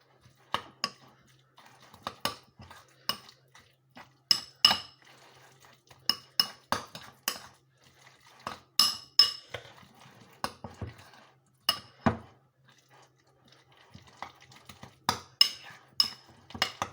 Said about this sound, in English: now we mix it together